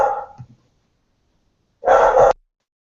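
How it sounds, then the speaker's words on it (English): A dog barks at someone arriving at the door, two loud, close bursts of barking separated by about a second of silence. "Sorry, the dog's going crazy."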